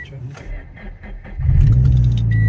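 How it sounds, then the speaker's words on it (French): Voices talk briefly, then a Toyota GT86 engine cranks and catches at close range, settling into a loud, steady idle. "Là, on démarre la voiture pour voir si tous les voyants s'éteignent bien"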